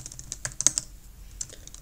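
Someone types on a computer keyboard while writing JavaScript code, with soft irregular key clicks, a quick cluster in the middle and a few scattered taps after a short pause.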